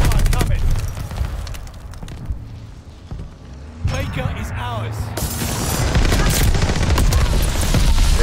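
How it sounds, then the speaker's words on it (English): Combat in Call of Duty Vanguard with allied mortar fire amid heavy gunfire, with loud bursts and booming impacts, a lull in the middle, then sustained rattling fire building again, and game voices calling out between. "Charlie, heads up! Allied mortar fire coming."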